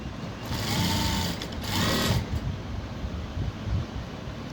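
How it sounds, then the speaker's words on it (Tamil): Sewing machine stitching the sleeve of a blouse, a close, continuous mechanical whirring hum that swells in short bursts and then keeps running steadily. "அந்த கை தைச்சிட்டோமா, அந்த கையிலையும் இதே மாதிரியே 2 தையல் போட்டுக்கணும்"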